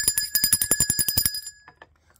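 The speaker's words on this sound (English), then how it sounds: "I'm going to ring the bell for that first." A small bell is struck in a rapid series of bright, ringing hits close by, then stops and its tone fades out over the last second.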